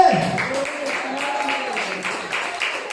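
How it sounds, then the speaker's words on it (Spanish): Steady, dense clapping from a church congregation fills the room, with a preacher's voice briefly audible at the start. "Dele fuerte la ofrenda de aplauso al Señor"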